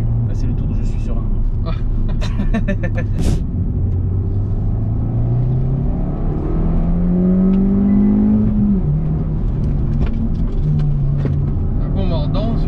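A Hyundai i20N hot hatch runs a relaxed warm-up lap on a racing circuit in normal mode, its engine droning steadily with rising and falling pitch through gear changes, while someone talks over it from inside the car.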